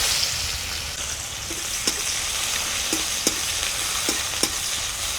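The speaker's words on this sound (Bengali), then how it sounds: "এবারে দিয়ে দেবো পেঁয়াজ কুচি।" Chopped onions fry in hot oil left from frying katla fish, with dry red chilli and whole garam masala, a steady close sizzle broken by a few sharp clinks of a spatula stirring the pan, and no talking.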